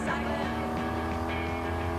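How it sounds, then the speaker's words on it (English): A motorcycle rides down the road, its steady engine drone holding a constant pitch with a low rumble beneath, continuous and fairly close throughout. "There's nothing like riding a motorcycle and going down the road."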